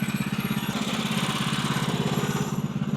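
A small engine on a log yard implement runs steadily with its choke cut off, a loud, even, pulsing idle with a throbbing low rumble holding constant throughout.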